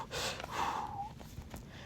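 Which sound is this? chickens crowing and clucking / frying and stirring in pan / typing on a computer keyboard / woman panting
woman panting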